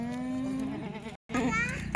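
A goat bleats up close at a farm where pregnant goats are kept for sale, a wavering nasal call that breaks off briefly and resumes, with other animal and voice sounds around it.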